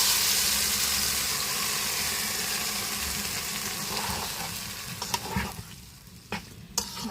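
Marinated chicken sizzling in a hot pot with cinnamon, cardamom and cloves, a loud frying hiss that fades and gives way to several sharp scrapes and knocks of stirring near the end.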